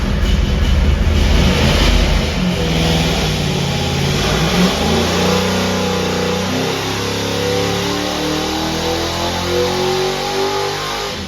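An engine runs under load on a water brake dynamometer, rising from around 1500 RPM in a loud, sustained rev with a steady drone throughout and no voices.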